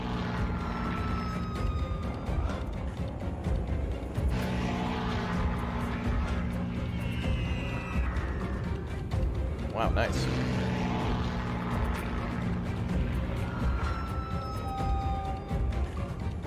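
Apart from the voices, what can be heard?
torpedo bomber aircraft in a WWII strategy video game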